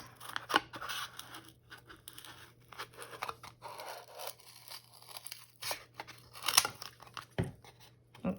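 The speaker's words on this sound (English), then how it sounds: "I'm gonna use my big scissors" Large scissors snip and slice through paper around the edges of a craft cutout in a steady run of short cuts, with faint rustling of the sheet between snips.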